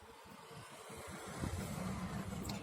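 A car engine hums low and steady from inside the vehicle, its rumble swelling slightly midway as it gets moving.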